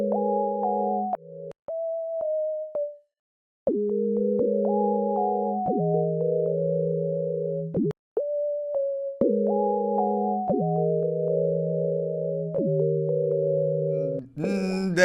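Ambient synth top notes from the Analog Lab plugin, sustained clean tones stepping through a slow repeating melodic pattern with brief gaps between phrases, played alone and fairly loud.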